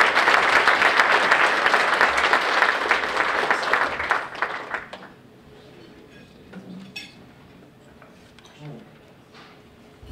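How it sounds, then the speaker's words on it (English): A chamber of commerce luncheon audience gives the emcee a round of applause, full and steady for about five seconds before dying away into a quieter dining room with faint clinks of dishes and cutlery. "So please join me in a nice round of applause for him."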